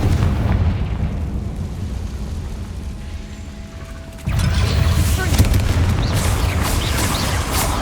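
The Confringo explosion spell goes off in Hogwarts Legacy, a sudden loud burst that jumps in partway through and then holds as a dense, rumbling blast texture over the low game ambience.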